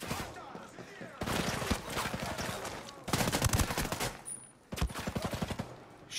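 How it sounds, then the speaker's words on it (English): Gunfire in Ghost Recon Breakpoint, made up of repeated loud bursts of shots in quick rattling volleys with short pauses between them, mixed with a voice talking. "I don't know where them shots are coming from."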